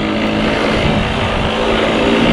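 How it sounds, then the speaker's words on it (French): A tiny 3-4 horsepower motorcycle engine fitted with a new carburetor labors loudly and continuously up close, its strained, uneven drone dominating the scene. "C'est un tout petit moteur de 3-4 chevaux, donc faut pas trop lui en demander."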